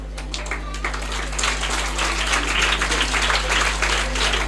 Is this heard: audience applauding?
yes